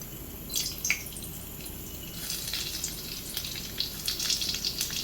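Garlic, ginger and shallots hit hot oil in a wok on a Kerala stove, giving a steady close sizzle with bright crackling pops and spatters that grow busier toward the end. No one speaks.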